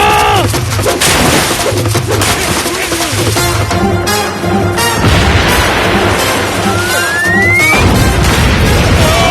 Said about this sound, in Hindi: ये धमाका हुआ कैसे?